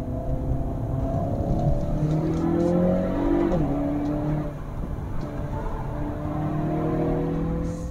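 A 2022 Hyundai Veloster N with a DCT gearbox accelerates hard, its engine note climbing and dropping through quick gear shifts, with faint crackles from the exhaust over the steady cabin drone.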